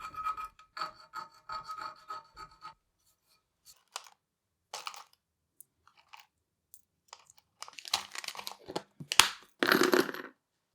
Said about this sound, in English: Here's me deburring